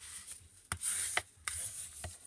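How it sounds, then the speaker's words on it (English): Card stock is scored for a pencil box with a series of close, scratchy rubbing strokes, a few sharper ticks as the tool moves along the board, over a faint background hum. "So let's just get this piece scored on here."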